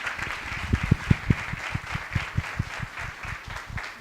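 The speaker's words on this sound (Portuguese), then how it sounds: "queria pedir a vocês uma salva de palmas para a Renata e para o laboratório dela" An audience at a carnival seminar in Rio de Janeiro applauds Renata and her laboratory, with crisp individual claps at first and then a denser, steady round of clapping from the crowd without any voices.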